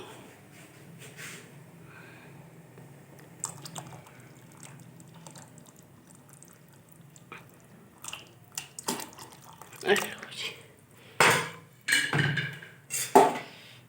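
Fresh lassi poured into simmering dal in a pot, with a quiet bubbling background and louder liquid splashes and pouring bursts toward the end, amid some talk.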